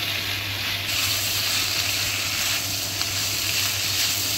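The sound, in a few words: food frying in a pan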